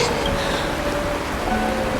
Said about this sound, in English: The rain! It's raining!